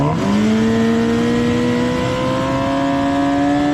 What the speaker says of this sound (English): F1000 Jedi race car at this beautiful circuit in Lincolnshire.